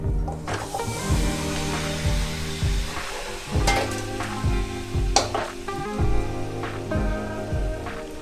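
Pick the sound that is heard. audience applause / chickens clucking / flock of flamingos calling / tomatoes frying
tomatoes frying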